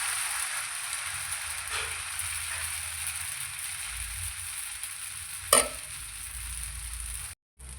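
Butter dosa batter for Davangere benne dosa sizzles on a hot pan in a soft, steady hiss, with one sharp clink partway through.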